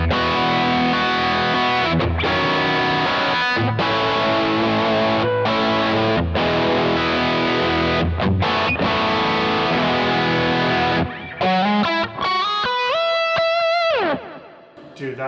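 Electric guitar with P90 pickups through a 63 Fender Trem-Luxe amp profile, strumming dense distorted chords with rhythmic stops, then ending on a few ringing single-note bends, loud and close.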